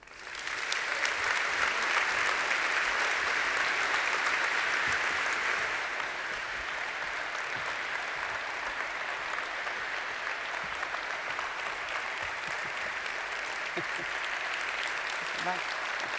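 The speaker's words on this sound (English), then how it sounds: "Help me instead welcome to the podium with the applause that she deserves, Mrs. Gro Harlem Brundtland." Sustained applause from a large audience, loud and steady for about sixteen seconds, easing slightly partway through but continuing throughout.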